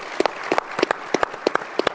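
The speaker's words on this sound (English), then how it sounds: "Give them a round of applause for putting this on." A small audience claps at a corporate analyst day, sparse distinct handclaps in a loose rhythm, fairly close and moderately loud, over about two seconds.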